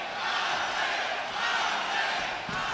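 Boxing arena crowd in Hidalgo, Texas, largely backing Jorge Arce in his fight with Masibulele Makepula, keeps up a steady broad roar of cheering that swells and dips slightly throughout, with no voice standing clearly above it.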